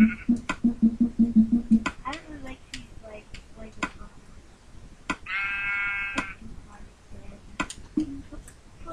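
A brown sheep in the video game Minecraft gives a single wavering bleat midway, surrounded by quick game clicks and taps, with a voice heard briefly near the start.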